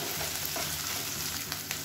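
Steady sizzling and crackling of onions and slit green chilies frying in hot oil, close and continuous, with no talking.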